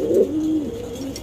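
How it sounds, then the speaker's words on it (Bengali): A pigeon gives a single soft, low rolling coo close by, a short throaty call lasting about a second. "আমরা এই মুহূর্তে দেখতে পাচ্ছি এখানে আরো এক জোড়া কবুতর"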